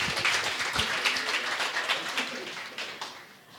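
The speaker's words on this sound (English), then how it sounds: "Give it a big round of applause." An audience at an idea pitch competition during a tech meetup in Riga gives a round of applause, a dense patter of clapping that stays fairly steady and then thins toward the end.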